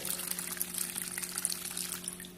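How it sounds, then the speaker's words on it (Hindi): Water pours into an incubator water tray in a steady, continuous rush that runs the whole time, with a constant low hum beneath it and no talking. "इसके अंदर इसमें हम पानी डालेंगे"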